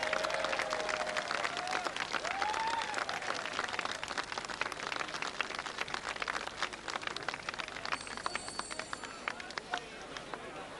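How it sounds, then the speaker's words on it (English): Racecourse crowd at the 1987 Derby applauding winner Reference Point, steady clapping and crowd noise heard under continuous commentary, with some faint hoof clatter mixed in. "Reference Point isn't quite used to this round of applause"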